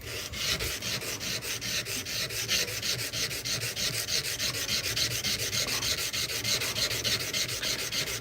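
Knife blade being ground, a steady rhythmic rasping with repeated strokes, close and continuous, with no talk.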